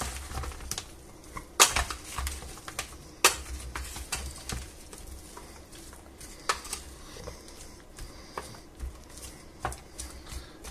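Chopped onions with green and red peppers get tossed together in a bowl, producing irregular clattering taps and clicks, with a few sharper knocks standing out over a quiet background.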